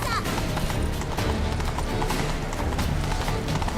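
Horse galloping in The Witcher 3: Blood and Wine, a steady rapid clip-clop of hooves running throughout, loud and continuous with game ambience underneath and a voice briefly audible.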